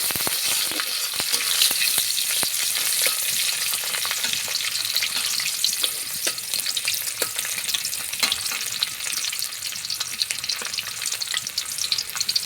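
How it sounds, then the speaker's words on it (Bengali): Chopped onion and garlic fry together in a pan for a village-style country chicken curry, a steady close crackling sizzle with occasional stirring scrapes and taps throughout. "পেঁয়াজ কুচি, রসুন কুচি একসাথে হালকা একটু নাড়াচাড়া করে দিচ্ছি"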